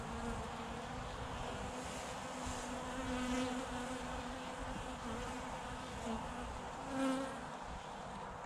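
Honey bees buzz steadily at an open beehive in an apiary during a colony inspection, a dense, continuous hum of many insects close by with a few louder passes and no talk.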